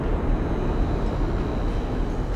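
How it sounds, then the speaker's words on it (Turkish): Steady low electrical hum in the side-scrolling video game Limbo, a dense continuous drone with a faint high whine on top, constant level throughout with no voices. "Elektrik sesi bile geliyor yani,"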